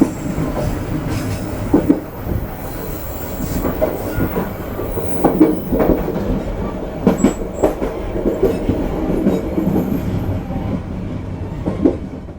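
Railcar riding between Jakarta and Bandung, with a steady rumbling roll and irregular clickety-clack wheel beats over the rails, interior and continuous.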